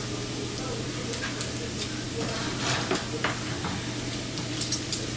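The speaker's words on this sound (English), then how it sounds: "Leaving in the grease so that the meat can cook in the grease" Sausage and short ribs frying in hot grease for charro beans, a steady close sizzle with occasional stirring scrapes, a low hum running underneath throughout.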